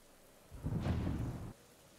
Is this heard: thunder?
yes